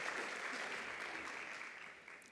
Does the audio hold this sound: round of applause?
yes